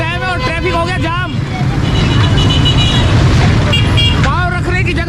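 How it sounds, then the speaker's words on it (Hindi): Traffic jammed on a busy food street at PIB Colony during Ramadan, with car horns tooting and engines idling in a continuous loud din while someone talks close by. "ट्रैफिक हो गया जाम, रोजा खुलने में थोड़ा सा टाइम है और ट्रैफिक हो गया जाम।"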